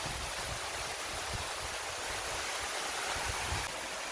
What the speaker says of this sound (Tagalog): Ito ang pinakamataas na napuntahan namin na falls mga kabayan. Ito nga Barrio Falls.